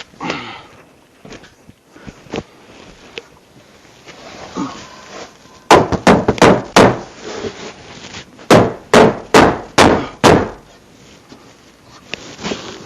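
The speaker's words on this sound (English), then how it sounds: "I need a hammer." Sharp hammer strikes come in two quick bursts of several blows each while reinforcing a wooden bench, after quieter scraping and handling noises.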